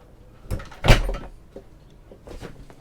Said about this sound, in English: Okay, so I'm going to close the doors